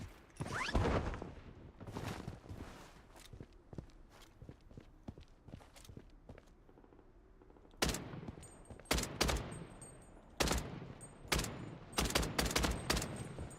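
Gunfire aimed at the player in a shooter game comes as several loud bursts of rapid shots separated by quieter stretches of footsteps and scattered single cracks.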